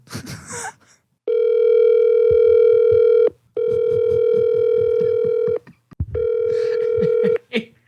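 A telephone placing a call for a phone-a-friend lifeline on a quiz show: three long, steady ringback tones separated by short gaps, with a few brief clicks and bits of faint background noise at the start and end.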